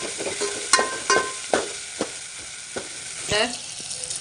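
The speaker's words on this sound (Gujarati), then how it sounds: "હલાવતા રહેવાનું થોડી થોડી વખતે અને ટામેટા થોડા ગળી જાય" A spoon stirs tomatoes cooking down in a pan for ragda patties, making several sharp scraping knocks against the pan at irregular intervals over a soft sizzle, close by and with no voices.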